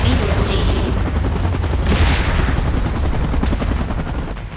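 Helicopter rotor drone with rapid bursts of gunfire in the Titans game's Last Stand mode, loud and dense throughout, with a sustained wash of battle noise that fades slightly at the end.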